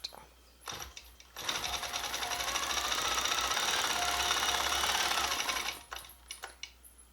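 A longarm quilting sewing machine stitches in a steady, fast mechanical whir for several seconds, starting and stopping cleanly, with a few soft handling clicks before and after.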